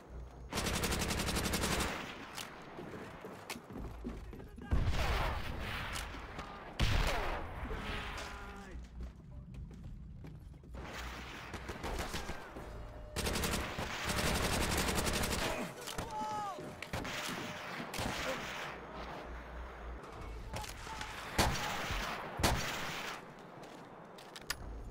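Rapid rifle and automatic gunfire rings out in the Call of Duty: World at War campaign, with bursts of sharp shots and ricochet-like pings recurring throughout, loud and close, with someone talking over parts of the battle.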